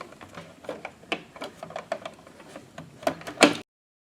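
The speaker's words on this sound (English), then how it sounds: "Snap the wires in, and then push all of these goodies back inside the box" Wires snap into a smart wall outlet's connector, then the outlet is pushed back into the electrical wall box: a close series of small plastic clicks and scrapes building to a louder knock before everything goes silent.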